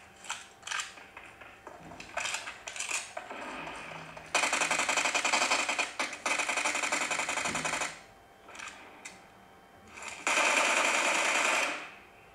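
PUBG gunfire played on a OnePlus 11R, dense automatic bursts rattling in long sustained runs with short single shots between them, loud and close-miked.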